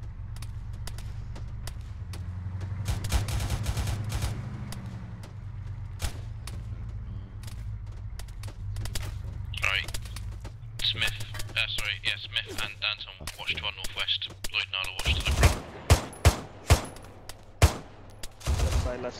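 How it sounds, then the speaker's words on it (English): Dense gunfire from many directions in a video game firefight during an airbase attack, with sustained shots through the first half and sharper, louder bursts near the end, under voices talking over the action. "We're taking fire from all directions."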